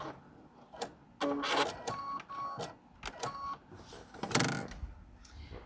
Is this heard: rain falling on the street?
no